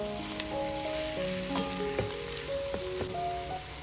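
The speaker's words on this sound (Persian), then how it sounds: "نصف سینه مرغ رو اضافه میکنیم و همراه پیازها کمی تفت میدیم." Half a chicken breast and onions sauté in a pot, giving a steady, soft sizzle with occasional stirring clicks that continues throughout, heard up close.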